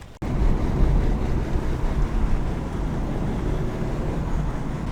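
Ocean surf near Taganana on the Anaga coast of Tenerife gives a constant, loud broadband wash mixed with wind buffeting the microphone, with no voices.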